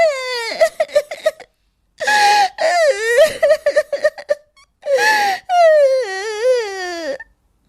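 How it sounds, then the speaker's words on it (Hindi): Someone cries and wails in a forest, with sobbing gasps, drawn-out moaning cries and whimpers in several bursts separated by brief silences, loud and close. "एक दिन वो जंगल में लकड़ी बीनने गई थी कि तभी उसे रोने की आवाज आती है।"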